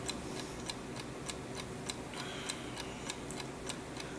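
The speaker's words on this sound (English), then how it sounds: "This is a sound test to see if you can hear the ticking of the clock" A clock ticking at a steady, even pace, crisp faint ticks about twice a second over a hissy room background.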